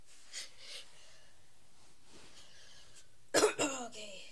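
A person coughs close by: a couple of soft coughs early on, then a louder burst of harsh coughing and throat clearing near the end, with quiet breathing in between.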